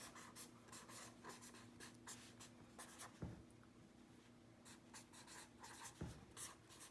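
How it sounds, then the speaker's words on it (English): A teacher writing steadily during an algebra exam review, quick scratchy pen or marker strokes in bursts over a faint hum, close and quiet with no talking, plus a couple of small knocks. "Sorry, I can't write and talk at the same time."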